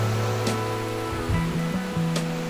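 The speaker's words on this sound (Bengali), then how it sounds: "এখন জল কম বলে সেই জন্য ঢেউ খুব একটা বেশি নেই বা হাওয়াও একটু কম আছে" Gentle sea waves wash onto the beach at Mandarmani during low water with little wind, a continuous broad rushing with a faint steady hum underneath and no talking.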